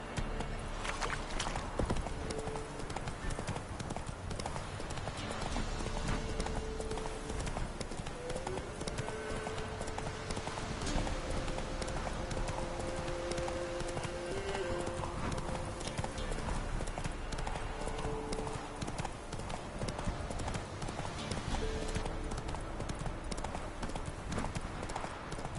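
Horse hooves clip-clopping steadily in The Witcher 3 video game, a continuous even gait that runs for the whole stretch over a dense game soundscape, with a faint tonal hum in the middle.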